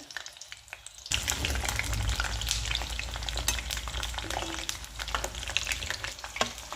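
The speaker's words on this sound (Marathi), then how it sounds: "आता आपण ही तेलामध्ये तळून घेऊयात. आपण अशी एक एक करून छान तळून घेऊयात." Brinjals (eggplant) frying in hot oil while cooking masala vaangi, a steady loud close sizzle and crackle that starts abruptly after a quiet second, with occasional stirring clinks, no talk.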